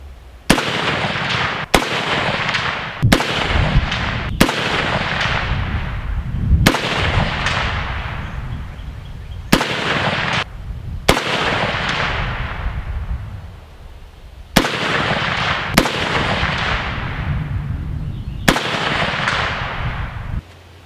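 A CMMG Resolute 200 rifle in 7.62x39 fires about a dozen sharp, loud shots at a steel plate outdoors, spaced irregularly with echoing decay after each report.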